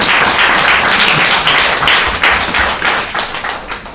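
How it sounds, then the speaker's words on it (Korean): An audience at a small café poetry reading breaks into dense, sustained clapping that stays loud and even for several seconds before thinning slightly at the end. "이런 기쁨 때문에 시를 쓰시는 것이 박수 한번 치시죠."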